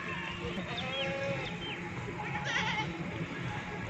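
Beetal and Nagra goats on a farm in Pakistan bleat in several short calls over a steady background of farm noise, with faint voices mixed in.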